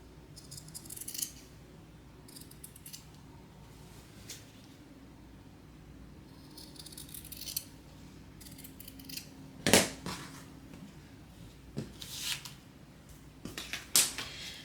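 Scissors or a blade trim a leather strap for a Shamballa Almendra band, giving faint scattered snips and scrapes with a few sharper clicks near the end, close and quiet with no talking.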